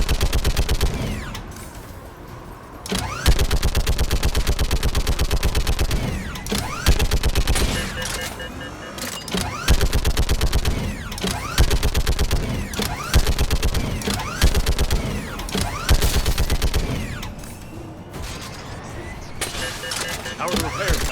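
Sustained weapon fire in a Mass Effect 3 firefight, dense bursts of gunshots and combat noise repeating throughout with short lulls, layered with game music and effects and occasional voices.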